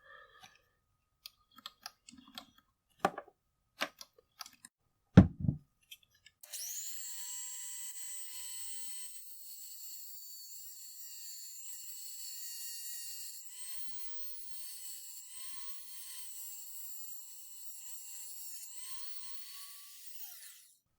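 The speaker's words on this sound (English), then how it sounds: "we're going to have to cut that out with the grinding wheel" A small grinding wheel cuts the edge of 3D printed armor, starting after a series of sharp clicks and handling knocks and then whining steadily and loudly with slight pitch dips as it bites.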